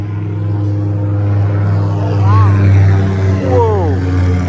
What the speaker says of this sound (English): That's a dang airplane right there.